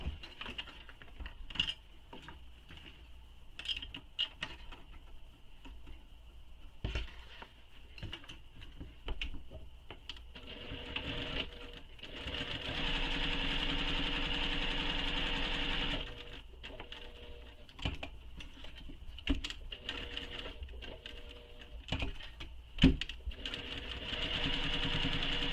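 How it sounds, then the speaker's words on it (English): A sewing machine stitches a box seam on a mini messenger bag, starting in short stop-and-go bursts, then running steadily for several seconds before more intermittent stitching. "Then I'm going to sew this box"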